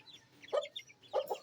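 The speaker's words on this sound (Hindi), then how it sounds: "ये हमारी मुर्गी और ये इसके चूज़े भी माशाल्लाह खासे बड़े बड़े हो गए हैं।" A hen clucks in short bursts while her grown chicks stay close, two clear clusters of nearby fowl calls with quiet gaps between them.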